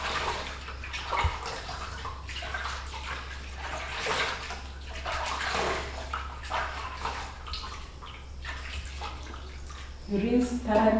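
Warm tap water runs steadily as hands are rinsed under a faucet during a hygiene routine for dairy milk handling in Kenya, a continuous close splashing hiss with a brief louder gush near the end.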